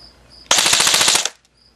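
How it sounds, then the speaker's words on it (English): A Code-8 PTW electric airsoft gun fires one full-auto burst of about three-quarters of a second, a loud rapid rattle of shots in quick succession that stops abruptly, with quiet before and after. "Let's try another full auto,"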